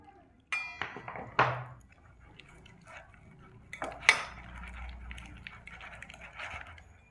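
Spoon scraping and clinking against a bowl while gram flour batter is mixed with salt, turmeric, chili powder, cumin powder and a little water; a few sharp knocks early, then softer intermittent stirring scrapes, close by.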